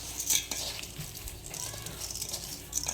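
Ingredients for homemade fish sauce (patis) are stirred in a container, a steady scraping and sloshing with faint clinks running throughout, close and moderately loud.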